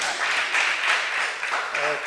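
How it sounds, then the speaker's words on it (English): Audience clapping at a Kenya National Research Festival side event, a steady round of applause from a gathered crowd, with voices mixed in toward the end. "Clap for her."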